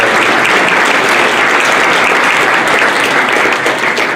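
A crowd at a high school athletics hall of fame induction claps for the presenters and inductees, producing steady, dense applause that stays loud and even throughout.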